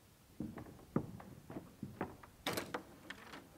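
A door being opened: a few soft knocks and clicks lead into a brief, brighter rush as it swings, followed by quieter handling sounds, all close and fairly faint.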